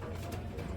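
Pigeons coo in a dense flock in a pigeon sale setting in Bangladesh, low throaty warbling coos overlapping steadily and close by for a brief moment.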